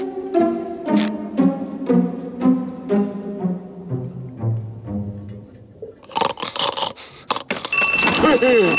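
A cartoon telephone rings in SpongeBob SquarePants after a stretch of musical tones, a bright repeated ringing that comes in loud near the end.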